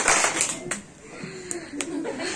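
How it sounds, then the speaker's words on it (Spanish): A couple of sharp claps ring out amid a murmuring crowd with light voices and chuckles in the background. "dan dos aplausos."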